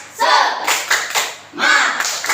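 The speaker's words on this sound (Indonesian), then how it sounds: "Tepuk semangat." A classroom of pupils performs a rhythmic spirit clap, loud close bursts of clapping in a patterned beat with short gaps between groups, with voices chanting along.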